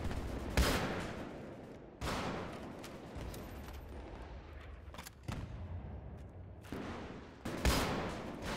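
Heavy booming blasts from a SMAW rocket launcher in a video game, several loud thumps spaced a second or two apart, each trailing off into rumbling noise.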